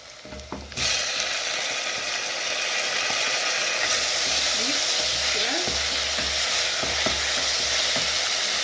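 Tomatoes drop into a pan of browned onions and set off a sudden loud sizzle that settles into steady, close frying for a matoke green banana stew, with faint stirring clinks underneath.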